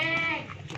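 A goat on a goat farm gives a short, wavering bleat, close and fairly clear, tapering off quickly.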